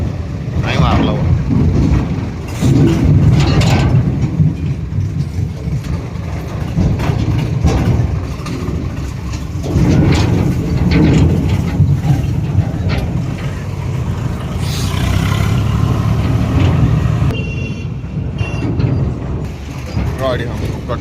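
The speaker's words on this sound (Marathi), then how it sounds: "भाऊ बसलेला आहे ट्रॅक्टर चालवायला।" A farm tractor engine runs steadily throughout, a loud, rough, continuous rumble heard under people talking.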